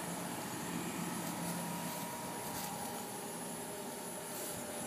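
A Carrier Infinity Greenspeed heat pump with variable speed compressor and fan, forward swept blades, winds down: a faint, steady broadband whoosh of fan airflow with a soft hum, gradually easing.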